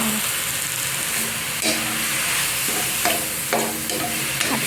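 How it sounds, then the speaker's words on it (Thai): Oyster sauce and Maggi seasoning hit a pork stir-fry with glass noodles and vegetables, a steady sizzling hiss punctuated by several distinct clanks and scrapes of stirring in the pan. "ซอสที่เตรียมไว้นะทุกคน ก็จะมีรสดี น้ำมันหอยแล้วก็แม็กกี้นะ ใส่ลงไปเลยค่ะ"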